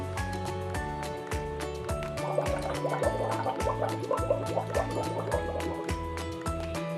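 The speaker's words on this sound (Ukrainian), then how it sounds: "А тепер подмухаємо крізь трубочку у склянку з водою." Steady bubbling gurgle of air blown through a straw into a glass of water runs through, over a constant rhythmic background music bed with pulsing low notes.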